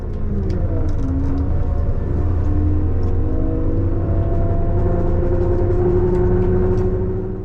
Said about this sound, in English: Also notice the engine sound as we leave the station. Our IC4 is really struggling.